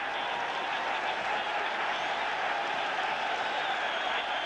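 A football stadium crowd at a 1992 European Championship qualifying match roars continuously, a dense, loud and steady wall of cheering from start to finish.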